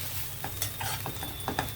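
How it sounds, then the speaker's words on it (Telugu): Chana dal and ivy gourd fry in a hot tempering while being stirred, giving a steady low sizzle with a few soft scrapes and clinks of a spoon against the pan, and no talking. "ఇది తాలింపులో వేగాలి కొంచెం తాలింపులో ఇలా మగ్గితే బాగుంటుంది"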